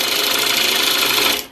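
A wood lathe turns a bowl while a V-cut gouge shears the spinning wood, giving a steady, close, loud hissing rasp that carries evenly for over a second, then fades quickly as the cut lifts off.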